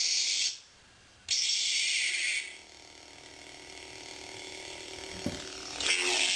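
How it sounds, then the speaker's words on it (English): A Darth Vader Force FX toy lightsaber gives out a bright hissing hum that cuts off and resumes, then fades to a low steady drone with a faint click before the hiss swells again. "I love the ignition and swing sound, and the turn-off sound"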